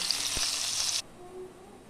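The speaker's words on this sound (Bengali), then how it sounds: "আলুটা ভাজা হোক" Potatoes hit hot mustard oil in a wok with a loud, steady broadband sizzle for about a second, then it cuts off abruptly, leaving only a faint low background.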